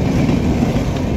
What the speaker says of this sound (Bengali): দেখেন ট্রেনটা কত জোরে আসতেছে, মনে হচ্ছে এখনই ঢাকায় পৌঁছে যাবে এই ট্রেনটি।